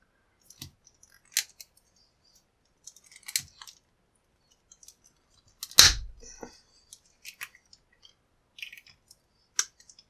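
A pocket-sized cutter snips through a plastic-coated Onguard lock cable, giving sparse, sharp clicks and crunches with one louder snap in the middle, close and isolated against near silence.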